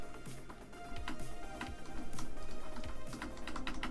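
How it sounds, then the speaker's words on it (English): Rapid close-up clattering of keys on an old computer keyboard with a faulty, sticking spacebar, continuous uneven tapping growing slightly louder, during a Warframe gaming session. "Like, you can see, I type, there's spaces."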